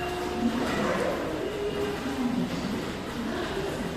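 Passenger train pulling out of Bengaluru behind a WAP4 electric locomotive with an ICF CBC rake, heard from on board as a low, quiet rumble with faint tonal whines and no talk.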